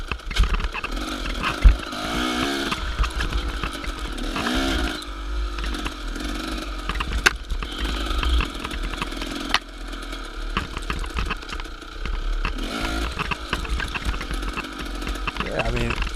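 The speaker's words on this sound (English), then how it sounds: "the audio makes it sound like my bike's falling apart" A dirt bike racing a hare scramble course, its engine revving up and down continuously with rattling, buzzy mechanical noise, heard close from the rider's position.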